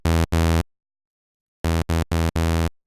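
A simple saw-oscillator synth patch built in Reaktor sounds bright, buzzy sustained notes: two short stabs, a pause, then four more in quick succession, loud and dry.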